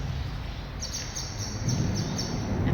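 Birds roosting in a river-trail underpass give faint, repeated high chirps over a constant low rumble of traffic passing overhead.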